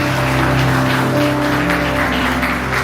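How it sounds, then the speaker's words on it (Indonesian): Dense crowd applause fills a church evening service hall, steady and loud throughout, with sustained musical tones from keys or organ underneath. "Mari kita beri tepuk tangan."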